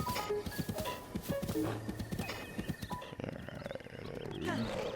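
Rhythmic hoofbeats of a galloping horse in The Legend of Zelda: Breath of the Wild, with a whinny, over busy game music and effects, loud and continuous throughout.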